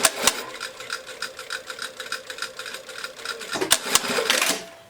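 Sewing machine runs in a fast, steady rattling stitch for about five seconds, stitching along a seam line to finish a garment lining, close and fairly loud with rhythmic needle clatter.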